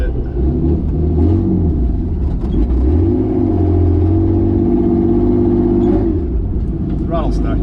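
A 1959 Plymouth Suburban Custom station wagon with a Mopar flathead engine, parked for 52 years, idles with a steady low rumble close by while someone speaks over it.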